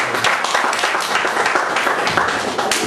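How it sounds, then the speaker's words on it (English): Audience applause at a Nigerian Union community gathering in Västerås, Sweden, a dense steady wash of many hands clapping, fairly loud and close, filling the whole stretch without talk. "Please, one more round of applause."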